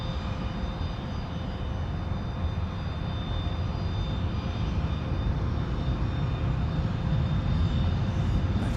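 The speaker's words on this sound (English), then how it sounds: "Flight 1227 from the Reagan National Airport in Washington is on its way in here on the east side of the field." Boeing 737 MAX 8 arriving at Dallas Love Field, its jet engines a steady distant roar with a thin high whine, slowly growing louder toward the end, no talk.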